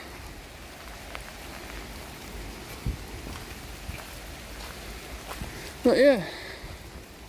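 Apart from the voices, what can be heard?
rain falling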